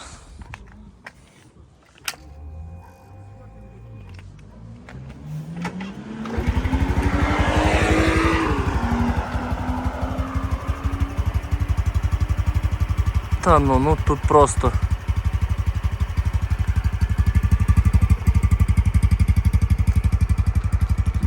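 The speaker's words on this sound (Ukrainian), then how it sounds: "двигунчик працює як часи" A 2020 Honda CT-125 fuel-injected scooter engine starts after quiet handling noises and settles into a steady, close idle, briefly blipped mid-way, with someone talking over it.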